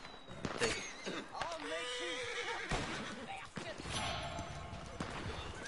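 Horse neighing in the video game Red Dead Online, a loud whinny with clip-clop hooves nearby, heard under ongoing game sounds and a voice talking.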